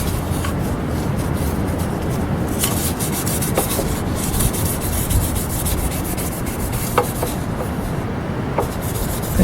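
Crankshaft journals of a 1936 Austin 7 being polished by hand, a continuous gritty rubbing scrape close up with a few small clicks, steady and without talk.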